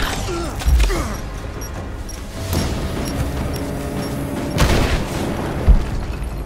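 A grenade explosion in the game Rise of the Tomb Raider: several deep booms with crashing debris, the strongest near the start and two more toward the end, over a low rumbling game background.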